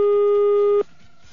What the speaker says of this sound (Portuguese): Tá chamando.